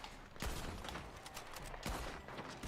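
Gunfire in Red Dead Online rings out as a quick string of sharp, fairly faint shots over a busy game background, with no talking.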